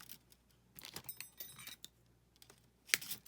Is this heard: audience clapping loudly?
no